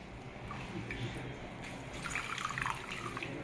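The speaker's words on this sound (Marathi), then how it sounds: "आपलं सगळं पाणी हे निथळून जाणार आहे" Whey trickles and drips softly and steadily from cloth-wrapped curds while making paneer, a small stream draining, growing slightly busier toward the end.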